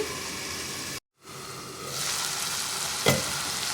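Ivy gourd (tindora) fries in a pan with a steady broadband sizzle that cuts out briefly, then returns louder, with a sharp stir or scrape of the pieces near the end.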